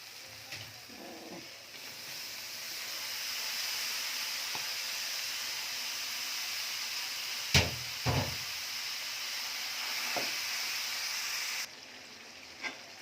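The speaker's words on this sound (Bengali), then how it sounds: "এখন মশলাটা কষানো শেষ, আমি ভুড়িটা দিয়ে দেবো।" Goat tripe is stirred into hot fried spice masala in a pan, giving a continuous close sizzle and hiss. A few sharp knocks and clatters of the utensil against the pan break through the frying, with no talk.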